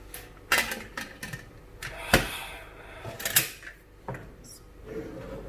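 A metal pressure cooker set down on a stovetop, with several sharp clanks and knocks spaced irregularly, close by in a quiet kitchen.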